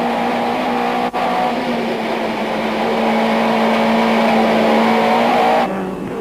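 Touring cars racing at high speed at Port Elizabeth in 1994, a loud sustained engine whine with a steady high tone, passing close and continuous before dropping off near the end, no speech.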